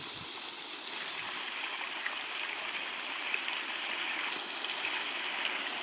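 Floodwater runs through a waterlogged pigeon pea field, a soft, steady rushing and gurgling that stays faint and even from start to finish.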